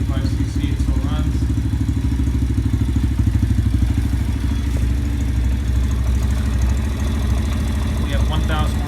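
A 125cc Venom motorcycle engine idles steadily up close, a continuous low, even putter with faint mechanical clatter, holding a constant level throughout.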